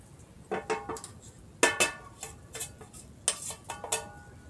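Spice powder being stirred into stuffed bitter gourd frying in oil, a series of sharp scraping clinks from a utensil against the pan in irregular bursts over a faint sizzle.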